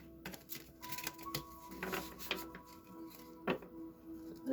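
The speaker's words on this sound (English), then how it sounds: "Let me shuffle this a little bit first, just to kind of shake out the energy." A deck of tarot cards shuffled by hand, with soft riffling and tapping in short irregular bursts, close and quiet.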